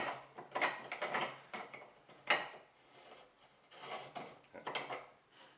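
Blade assembly being screwed back onto a Chop Rite meat grinder, with irregular metallic scraping, ratcheting clicks and rubbing of threaded parts, close and moderately loud, no speech.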